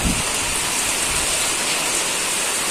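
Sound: rain falling

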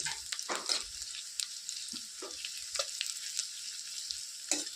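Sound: garlic and ginger frying in butter for tadka

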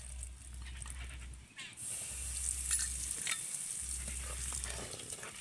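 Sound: egg biryani spices frying in oil in a wok

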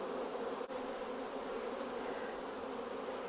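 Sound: honeybees buzzing in a full hive

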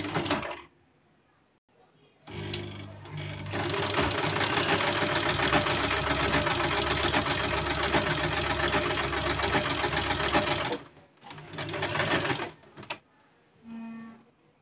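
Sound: Usha Dream Stitch sewing machine stitching pleats

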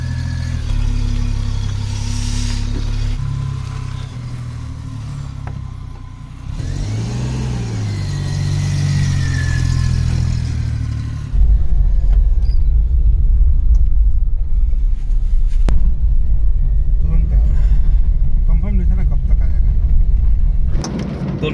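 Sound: Maruti van engine driving off

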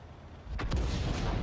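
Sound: artillery fire in video game

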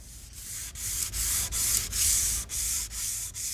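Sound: lightly sanding varnished wood with the grain

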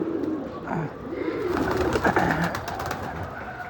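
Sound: pigeons cooing in a rooftop coop

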